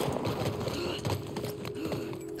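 Horse hooves galloping in The Last of Us Part 1, a steady rapid clip-clop rhythm running close and loud throughout, mixed with a low game rumble and no talk.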